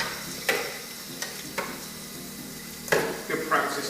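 Water runs and splashes while a removable part of a Jura Giga X7 coffee machine is rinsed, with several sharp knocks and clatters of the part against a sink or tray.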